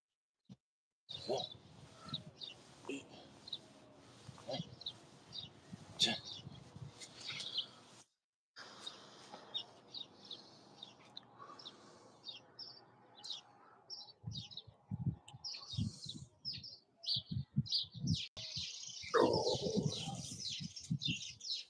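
Birds chirp and tweet continuously outdoors, many sharp calls overlapping, with occasional cooing and brief low thumps, fairly faint and distant throughout.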